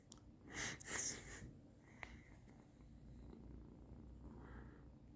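A soft, steady purr from a cat close by, with a few brief sniffs and snuffles near the start.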